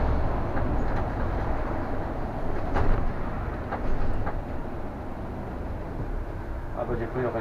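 A Solaris tram on the MPK Kraków network rumbles past nearby with a steady heavy rolling drone and a few wheel clicks, while people talk faintly in the background.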